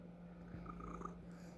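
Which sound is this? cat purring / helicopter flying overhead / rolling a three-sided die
cat purring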